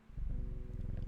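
Cat purring as it is petted in the game Strange Horticulture, a steady low rumbling pulse with regular rhythmic beats, close and moderately loud, alone without talk.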